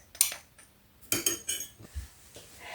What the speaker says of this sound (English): Give this a good mix up.